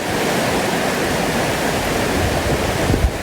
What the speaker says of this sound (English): The normally sedate Sheepwash Creek became a fearsome torrent within hours.